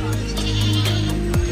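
Goats at a crowded goat market in Khargone bleat loudly and close by. Several wavering cries overlap over a steady crowd murmur and scattered sharp knocks.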